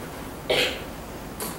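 Two short, faint coughs close to the microphone, separated by a quiet pause, with no speech around them.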